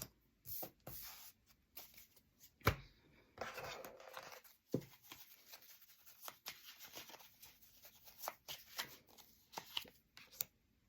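Tarot cards being shuffled by hand in a quiet room, with irregular bursts of riffling and sliding card sounds separated by short pauses.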